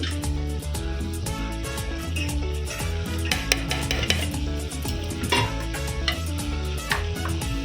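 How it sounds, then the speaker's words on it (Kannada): A spoon stirs eggplant and potato palya with spice powders in a pan, producing continuous scraping and clinking against the metal over a soft sizzle, with occasional sharper knocks scattered through the steady mixing. "ಚೆನ್ನಾಗಿ ಈಗ ಮಿಕ್ಸ್ ಮಾಡ್ಕೋಬೇಕು."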